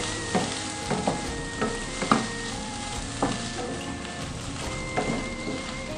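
Green beans and egg stir-fried in a pan, with a steady sizzle and a spatula scraping and stirring in several distinct strokes, close and moderately loud, no talking.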